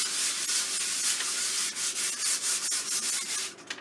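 Sandpaper rubs by hand across a gessoed board in a continuous, close scratchy hiss with an uneven back-and-forth rhythm, with no voices.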